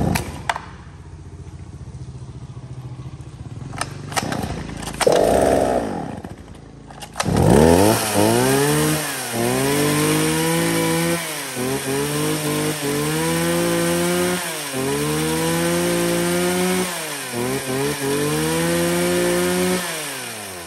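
A Shindaiwa 380 chainsaw engine sputters through a few failed pulls before catching, then runs loud and close in repeated rising revs and falls back to idle. It keeps a rhythmic pulsing cycle and no one speaks.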